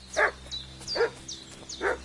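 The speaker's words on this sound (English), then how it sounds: "What's that dog making such a fuss about?" A dog in Kingdom Come: Deliverance barks three times in quick succession, mid-distance and fairly loud, with faint higher whimper-like tones between the barks over a low background hum.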